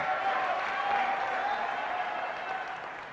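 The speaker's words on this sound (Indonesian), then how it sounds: "Jangan cuma tepuk tangan" An audience at a Partai Umat national working meeting bursts into applause. The dense, steady clapping fills the room for about three seconds and fades only slightly at the close, with no speech over it.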